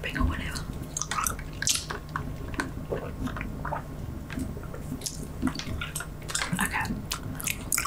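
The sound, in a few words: ASMR gum chewing and snapping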